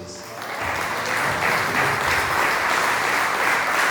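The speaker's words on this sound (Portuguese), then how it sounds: "E as palmas louvam o nome de Jesus." Church congregation clapping in praise during a women's worship service at an Assembly of God church, dense sustained applause close by for the whole stretch.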